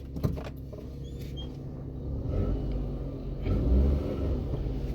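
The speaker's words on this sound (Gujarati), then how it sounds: "એક્સિલેટર આપી રહ્યા છે" A CNG-converted car engine idles in a low rumble, then swells twice as the accelerator is pressed lightly. The revs rise and ease off gently, moderately quiet and close by, with no speech.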